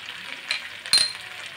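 Chopped garlic sizzles and crackles in hot oil in a pan, with a steady frying hiss broken by two brief scrapes of a spoon stirring it, the second louder, close and without talk.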